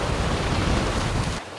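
Wind and sea rush past a sailing yacht crossing open water on a beam reach in 18 to 20 knots of breeze. A loud, steady broadband roar holds throughout, then drops abruptly just before the end.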